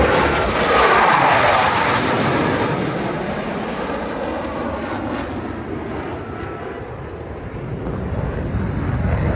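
U.S. Navy Blue Angels jets fly a low brake cross at an airshow, a loud, continuous roaring rush of jet engines that swells early, eases slightly, then builds again, with no talk.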